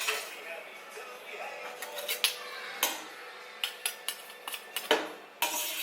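Garlic goes into a cooking pot in a home kitchen: a steady low sizzle runs under a string of sharp metallic clinks and scrapes from a utensil against the pot, coming in quick irregular bursts, close and fairly loud.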